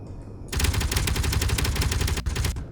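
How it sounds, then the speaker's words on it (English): Gatling guns in Space Engineers open up after a brief quiet start, a loud, close, continuous rattle of rapid shots lasting about two seconds before cutting off with a final burst. "And then we'll check our Gatling guns."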